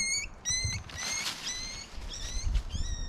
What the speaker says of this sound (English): Now what you just heard was her picking up one of her kits.